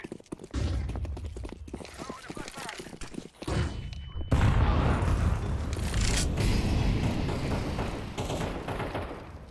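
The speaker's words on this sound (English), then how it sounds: "I'm throwing a flashbang." A flashbang grenade goes off in Counter-Strike 2 with a loud burst and lingering ringing roar, preceded by game gunfire and clatter, with voices talking over the action.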